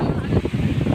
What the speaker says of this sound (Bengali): প্রচুর বাতাস